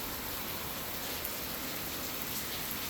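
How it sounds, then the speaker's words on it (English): Steady rain pours down outdoors during truck maintenance work on steer tires and wheels, a dense, even hiss of drops with no voices, constant and close throughout. "hopefully this rain lets up."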